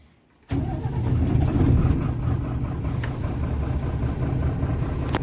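BharatBenz truck diesel engine cranking and catching, then settling into a loud, steady running rumble right up close, with no talk over it.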